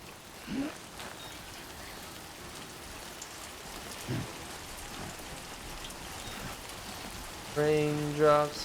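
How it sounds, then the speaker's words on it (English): Steady rain pours down in Death Stranding 2, a dense even hiss of drops on the ground that runs throughout, with brief thuds and a few tonal game sounds breaking through near the end. "Raindrops falling on my head."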